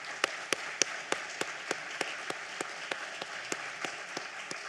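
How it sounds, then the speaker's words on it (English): Audience applause for sponsor Providence Bank at a sports hall of fame ceremony, heard as sparse, evenly spaced claps from a few hands, rhythmic and fairly faint over a quiet room. "Let's give them a big round of applause."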